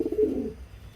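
Pigeons in a breeding loft give a short, fairly loud coo that fades after about half a second, leaving a quiet room tone.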